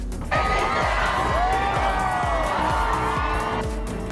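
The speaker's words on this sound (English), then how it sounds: "there was a lot of cheering in the crowd, kind of like this video of when the Pope arrived and everyone went crazy" Crowd cheering and shouting at the Pope's arrival, a loud, continuous roar of many voices with whoops on top and a rhythmic pulsing chant or drumbeat underneath, heard as recorded playback.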